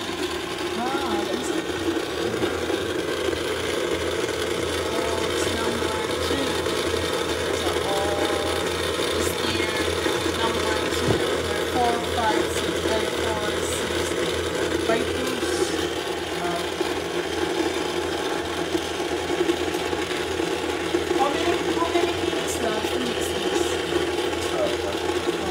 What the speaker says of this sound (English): So let the mixer do his job.